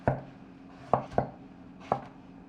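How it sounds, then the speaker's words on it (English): A knife chops carrot into matchsticks on a cutting board, four sharp, separate strikes spaced unevenly: one, then a quick pair, then a last one. The chops are close and crisp, and no one talks. "the carrot, we're just gonna cut it small half first and then matchsticks"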